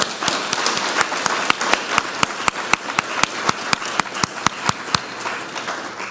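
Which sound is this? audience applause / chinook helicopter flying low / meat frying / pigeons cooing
audience applause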